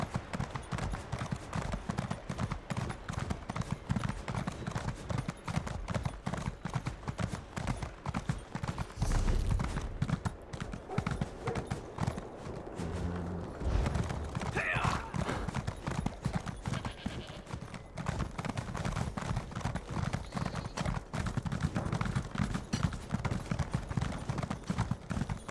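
A horse gallops in the Elder Scrolls game, hooves pounding in a fast, steady clip-clop rhythm that carries on almost continuously, with brief shifts in surface and pace.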